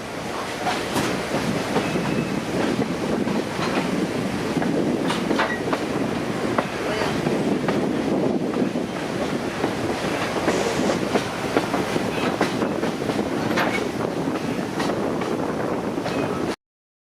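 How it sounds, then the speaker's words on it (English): A 1940 vintage train on the Hiawassee River scenic railroad rolls steadily along the tracks, with continuous rumbling, rhythmic clattering of wheels and wind noise, loud and close throughout. "This railway, it travels along the side of the Hiawassee River."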